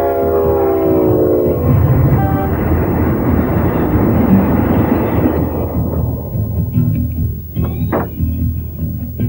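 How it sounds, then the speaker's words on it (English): A heavy freight locomotive hauling container wagons rumbles past loudly with a deep, continuous roar of wagons, fading somewhat toward the end, with no one speaking. "This locomotive is hauling over 40 container shipments from South Australia through Ballarat"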